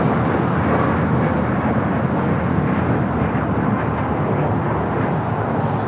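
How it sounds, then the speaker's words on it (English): A United Airlines Boeing 737 MAX 8 takes off from Los Angeles airport, its engines a loud, steady, broadband jet roar that holds close and constant without letup. "This is United Airlines 1251 taking off to Cleveland on the MAX 8"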